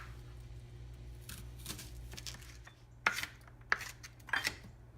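A knife chops food on a cutting board in a home kitchen while onions cook in butter, giving three or four sharp, close knocks in the last two seconds over a steady low background hum.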